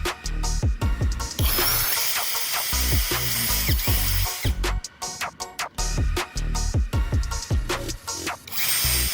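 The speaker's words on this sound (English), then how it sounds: "use a handheld drill with a small drill bit, and drill a hole right through the marked center point" A handheld power drill whirs loudly in bursts, with the bit grinding through a plastic bottle cap, close up and without talking.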